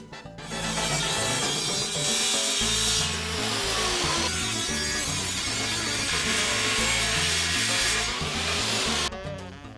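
Saw cutting OSB panels to size for a homemade bar, a steady loud rasping buzz that runs nearly nonstop for several seconds before stopping abruptly, close up with no voices.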